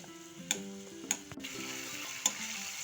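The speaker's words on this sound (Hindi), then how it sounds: "अब हम इसमें ये जो मैंने टमाटर बचाए थे इनको ऐड कर देंगे और इनको भी हम थोड़ी देर पकाएंगे" Tomatoes cook in a pan for Gujarati sev usal with a soft, quiet sizzle, broken by a few sharp clicks of a utensil against the pan.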